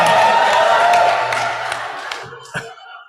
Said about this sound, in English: Simulan na ang cheering habang nag-aantay tayo.